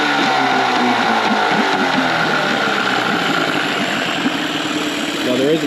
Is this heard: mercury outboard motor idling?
yes